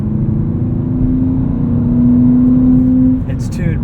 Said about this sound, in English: And that titanium exhaust. The sounds this thing makes.